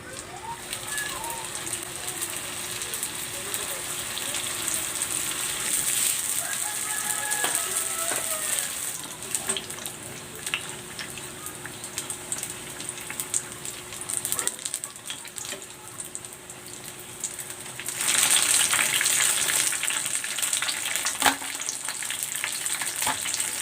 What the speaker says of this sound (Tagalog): Pwede na natin itong iprito.